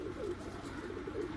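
Soft, low cooing of a Pakistani pigeon landing at night repeats a few times, faint and somewhat distant, with rustling background noise and no talking.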